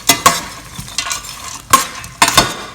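A spoon stirs raisins and coconut in a pan for kheer, giving sharp scraping strikes against the metal at an uneven rhythm under a faint sizzle, close and fairly loud with no voices.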